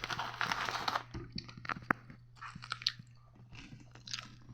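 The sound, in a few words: chewing potato chips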